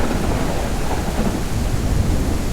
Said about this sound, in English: Oh, lightning.